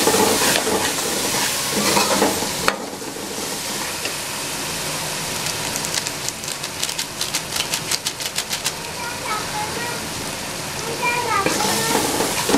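Chicken frying with korma masala in a pan, a steady sizzle broken by a short burst of rapid ticking stirs midway, with voices talking over parts of it.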